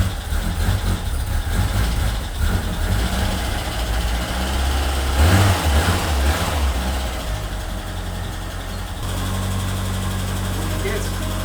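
A Ford Escort Cabrio XR3i engine running for the first time in 20 years, loud steady idle with a low rumbling drone throughout, slight surges midway and a shift in tone near the end, heard up close.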